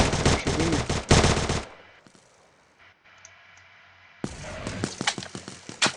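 Rapid automatic gunfire from the video game ARK, loud close bursts of shots at the start, a quieter gap with faint clicks, then another burst of rattling fire at the end.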